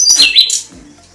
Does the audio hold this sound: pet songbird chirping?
yes